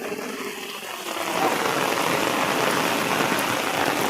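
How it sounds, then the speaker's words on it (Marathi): Rain falls over rice paddy fields in the Konkan during monsoon planting, a dense, steady hiss that grows heavier after the first second and stays loud and even, with no voices. "पाऊस आहे होय पाऊस लागतोय"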